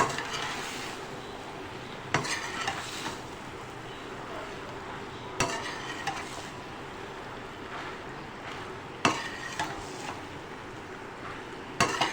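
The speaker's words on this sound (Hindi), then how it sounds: "मैकरोनी डाल के अब हम इसे अच्छे से मिक्स करेंगे।" Macaroni being stirred into sautéed vegetables in a pan, with a steady hiss and occasional scraping knocks from the spoon against the pan every few seconds.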